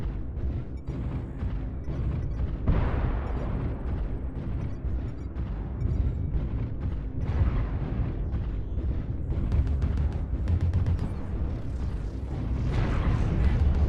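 Heavy missile explosions in MechWarrior Online rumble continuously, a dense barrage of booms and blasts layered over battle noise with no clear gaps.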